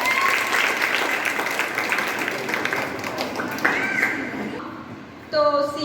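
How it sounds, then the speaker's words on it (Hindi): An audience claps loudly and steadily at a prize-giving gathering, the applause fading near the end before a brief tonal sound cuts in. "तो शबनूर के लिए जोरदार तालियां हो जाए"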